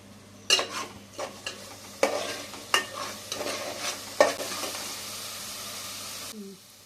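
Onion paste frying in oil for a fish curry, sizzling quietly under repeated stirring scrapes and light utensil knocks before it falls silent.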